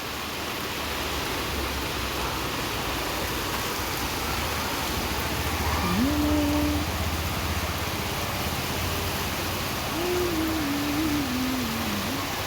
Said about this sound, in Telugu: పెద్ద వర్షం.